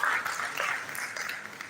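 Brief, faint burst of audience applause at an academic talk on educational psychology and artificial intelligence, a scattered clapping wash that thins out over under two seconds.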